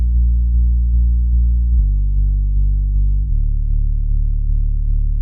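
A deep, sustained sub bass tone from a Repro-1 synthesizer preset, stepping down in pitch twice, heavy and buzzy in the low end, played alone with no other instruments.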